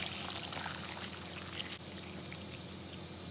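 Twelve cups of water poured steadily into a crock pot for homemade apple cider, a continuous close splashing stream lasting a few seconds.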